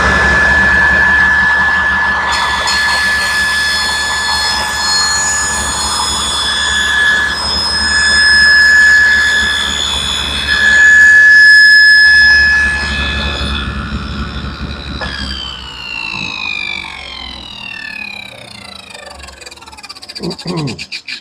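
Table saw cutting a stopped dado: a whining blade with a steady high tone, cut noise swelling twice, then the motor switched off and the pitch sliding downward as the blade winds down to a stop.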